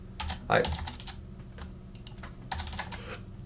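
Computer keyboard typing router configuration commands, clusters of light close key clicks in uneven bursts with short pauses, quiet room hum underneath.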